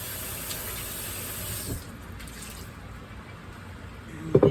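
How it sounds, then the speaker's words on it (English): A steady hiss of running water splashes into a metal pan, shifting in tone partway through, then a few clanks at the end. "Let me rinse this out."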